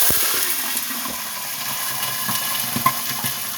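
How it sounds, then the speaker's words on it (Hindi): Water poured into a pot of fried onions and hot ghee, a soft steady sizzle and hiss of steam with faint scattered crackles, fairly quiet and close, without speech. "अब हम इसमें 1 कप पानी का ऐड करेंगे और साथ ही ढक्कन से इसको ढक देंगे।"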